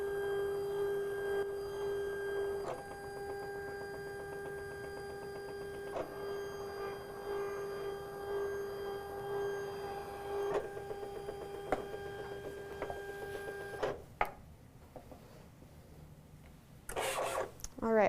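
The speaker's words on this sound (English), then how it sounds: "our machine just finished making the cut" An electronic cutting machine works through paper party invitations with a steady mechanical hum and repeated whirring motor passes, and sharp clicks mark its movements. The motor stops near the end, and a few clattering handling noises follow.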